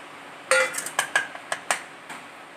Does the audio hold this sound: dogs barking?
no